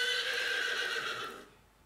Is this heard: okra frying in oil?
no